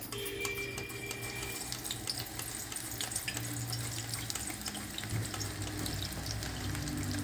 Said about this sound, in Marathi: डायरेक्ट तेलात तळायचे